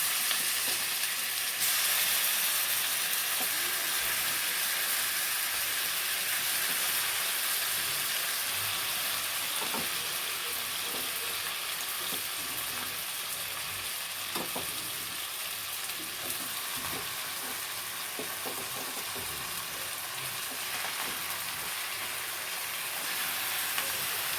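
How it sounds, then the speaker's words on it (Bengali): Chicken frying in a pan for butter chicken, a steady broadband sizzle with faint crackles running throughout at a constant, moderate level, no voices. "এতে দিয়ে একটু ভাজা ভাজা মতো করে নিতে হবে।"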